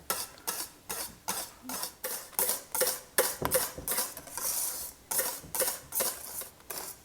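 A whisk beating whipped cream into a gelatin mixture in a bowl for a lime meringue roll cake, with steady rhythmic scraping strokes repeating about twice a second, fairly quiet and close.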